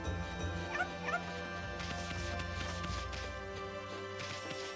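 Dog yips and whimpering barks from the video game Okami, a few quick bursts near the start over a busy bed of game music and effects, fairly quiet in the mix.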